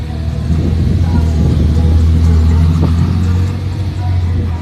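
Ferrari California convertible rolling past on a street, a loud, steady engine rumble with a deep low drone that swells slightly mid-pass and holds close by throughout.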